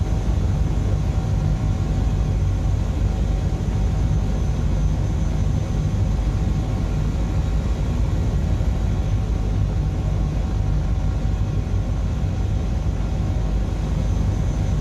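Steady, loud rotor and turbine drone of an Airbus H160 helicopter in flight in Microsoft Flight Simulator 2020, a continuous low rumble with a constant whine, no voices.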